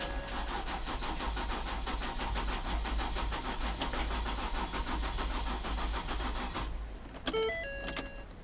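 A 2013 Ford Explorer Police 4WD engine cranks repeatedly in a fast, steady rhythm without catching, then stops, followed by a few brief clicks and electronic chimes.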